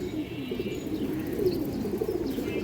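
A caged female Rupankhi pigeon keeps up a low, continuous rolling coo at close range, with no voices.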